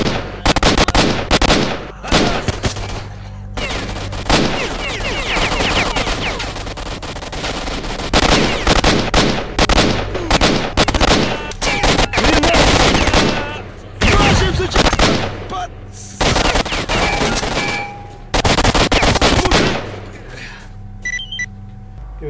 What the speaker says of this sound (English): have bullets that I could shoot at them